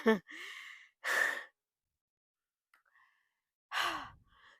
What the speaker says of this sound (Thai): ขอเวลาแป๊บหนึ่งเพราะกำลังหอบค่ะ